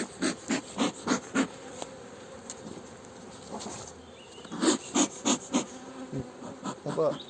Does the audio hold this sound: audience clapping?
no